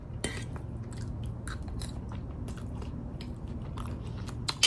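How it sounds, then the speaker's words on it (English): Someone eating animal style fries, quiet, wet chewing and soft crunching bites close to the ear, spaced irregularly over a faint room hum, with a small clink near the end. "eat animal style fries while I'm doing this"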